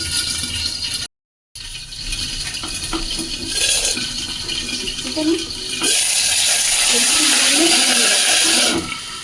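A cut-up boal fish head fries and spatters in hot oil, making a loud, continuous hiss and crackle that swells into a harsher sizzle partway through, with a voice talking over it.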